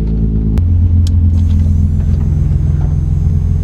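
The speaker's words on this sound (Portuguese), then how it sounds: "Ligar o carro agora." A Nissan 350Z engine runs right after starting, a loud low rumbling idle close by with a sharp click at the start and a brief high whine, no talk over it.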